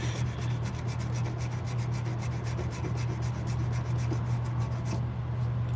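A guitar body is sanded by hand with 220 grit sandpaper in steady, rapid back-and-forth strokes, a close, continuous rasping rub with an even rhythm over a low background hum.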